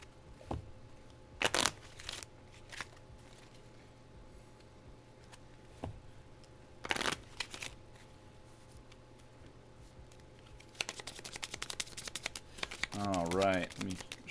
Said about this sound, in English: let me show off my shuffling